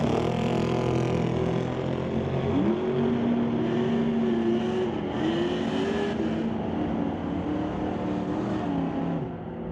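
A drag racing car makes its run on a throttle stop, a loud, sustained engine roar that holds a steady pitch and then swings up and down as the throttle changes, heard from trackside without talk.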